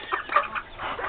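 Several chickens on a farm cluck and murmur close by, a busy overlapping chatter of soft calls with no talking.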